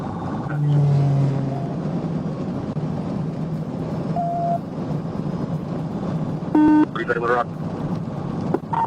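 A police cruiser on an Arkansas highway gives a steady low road and engine rumble during a high-speed pursuit. Brief electronic beeps sound near the end, and a voice talks over it.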